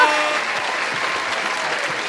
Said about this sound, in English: we should have some applause here for you